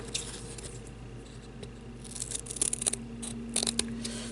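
Scissors snip through stiff craft felt for a miniature tea set trinket box: a few soft, close, crisp cuts in a quiet room.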